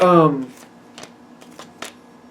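Oracle cards being shuffled, a short riffle at the start followed by several soft taps and flicks of the deck, with a voice briefly heard at the opening.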